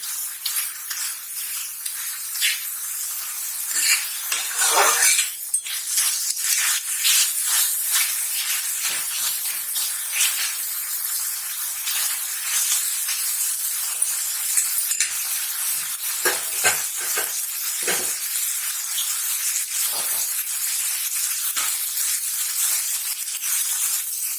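Mashed tomatoes are stirred and fried in a pan for egg bhurji, giving a steady close sizzle with a continuous hiss and repeated scraping stirs throughout.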